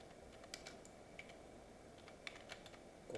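Computer keyboard typing for an AutoCAD search, a few quiet scattered keystrokes in short bursts over a low steady background hum.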